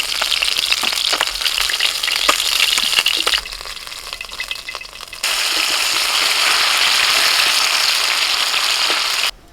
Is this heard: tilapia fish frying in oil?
yes